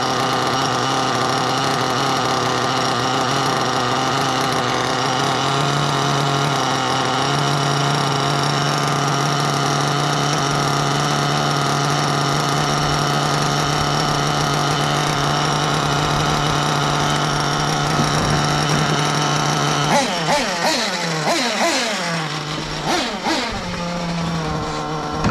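A Losi 8ight X Elite nitro RC buggy, fitted with an Alpha Dragon IV engine during break-in, runs at a loud steady idle for about twenty seconds, then revs up and down in short bursts near the end.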